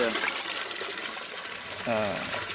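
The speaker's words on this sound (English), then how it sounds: "So the barrel is filling up" Water gushes steadily into a buried aquaponics barrel fed by a U siphon, with a voice talking over the flow.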